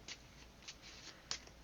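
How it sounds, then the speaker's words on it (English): A deck of playing cards is shuffled by hand, giving soft, quiet riffling and flicking bursts at close range, with a sharper snap near the end. "I'll give this a really good shuffle"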